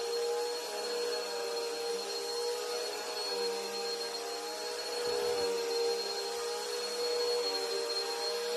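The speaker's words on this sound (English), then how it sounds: "And don't run your vacuum like this too long because it will overheat." A vacuum cleaner motor runs steadily and loudly throughout, a constant whining roar with a strong high tone and a slight dip in airflow midway, with no voices.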